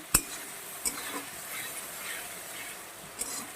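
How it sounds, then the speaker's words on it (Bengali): Spice paste made with green and red chillies is stir-fried in oil for a potato, egg and soya curry: a soft, close sizzle with a few sharp spatula clinks against the pan and scraping strokes, and no voices. "আমি আরও কিছু সময় কষাবো, যতক্ষণ কাঁচা গন্ধটা থাকবে আর তেল না ছাড়বে ততক্ষণ আমি কষাতে থাকবো।"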